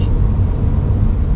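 A 1996 JDM Subaru Impreza WRX driving fast, heard as a steady, loud low engine and road rumble from close by, with no talk.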